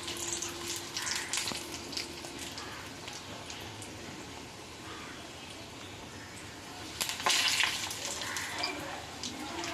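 Bitter gourd leaves frying in oil over a medium flame, a steady soft sizzle and crackle running throughout, with a brief louder burst of spitting near the end.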